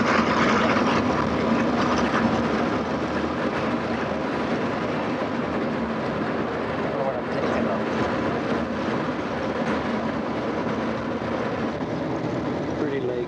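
Inside the cabin of a large aircraft in flight, a continuous broadband roar of engine and air noise fills the space at steady volume, with low voices talking beneath it.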